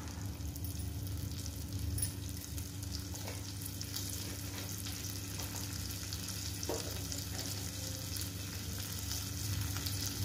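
A finely chopped green chili crackling in hot oil with cumin seeds and asafoetida for a tempering, a steady dense sizzle with faint stirring, close and constant throughout.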